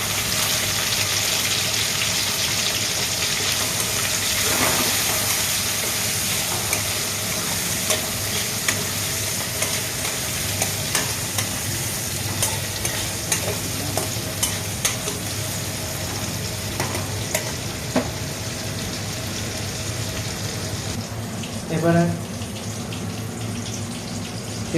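Chopped tomatoes hit a hot pan for a matar paneer and fry with a steady close sizzle, broken by scattered clicks and scrapes of stirring and a brief clink near the end.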